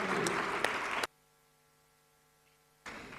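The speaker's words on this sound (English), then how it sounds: "Big round of applause." Audience applause at a media and information literacy conference: a dense burst of clapping that cuts to near silence with a low hum, then resumes at the end.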